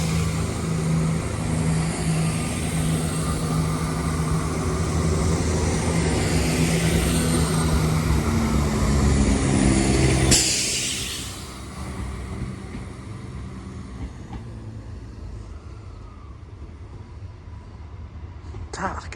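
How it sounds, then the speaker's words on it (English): A Chiltern Railways class 168 diesel train pulls out of Birmingham Moor Street station with a loud, steady engine roar and rumble that rises, then falls off sharply and fades to a quieter drone as it moves away. "there goes 168217 working the 1114 Chiltern Railway service to London Marylebone from Birmingham Moor"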